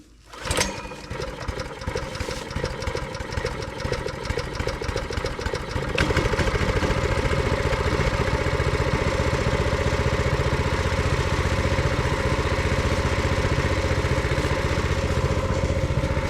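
A small YARDMAX chipper/shredder engine starts and settles into a steady, loud mechanical roar with rattling, running continuously without any voices.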